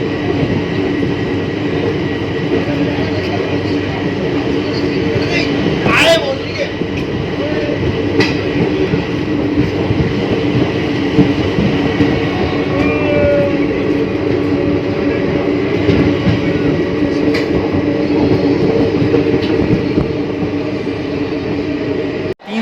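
Geeta Jayanti Express train pulling into Mathura Junction, a steady loud rumble of wheels and carriages throughout with a brief squeal and occasional clanks, no talk heard.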